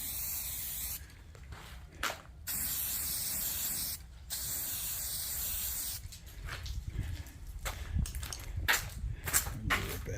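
Spray coating is applied to the edge of trim pieces in short hissing bursts with brief pauses between them, then quicker sputtering sprays near the end, fairly close and quiet overall.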